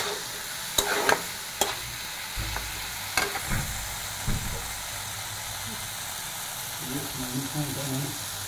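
Fried potato and mushroom pieces being tipped into a pan of cooking tomato masala: a few sharp spoon clacks and scraping stirs over a faint, steady sizzle, then quieter bubbling and stirring.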